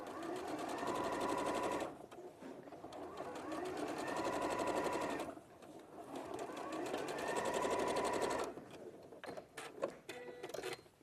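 A sewing machine stitches a couple of millimetres from a fabric edge to separate a lining. It runs in three close, busy bursts with brief stops between them.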